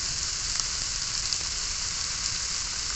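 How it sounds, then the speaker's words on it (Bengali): Ridge gourd frying in hot oil with turmeric, making a dense, constant sizzle that stays close and loud without a break, with a few faint stirring clicks beneath it. "ঝিঙে দিয়ে একটু ভাজবো"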